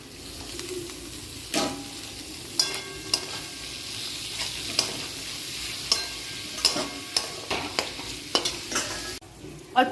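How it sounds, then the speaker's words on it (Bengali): Vegetables stir-fried in a hot pan for egg fried rice: a steady sizzle with repeated sharp scrapes and clanks of the spatula stirring, close and alone without talk. "এবার সবজিগুলো দিয়ে দিচ্ছি।"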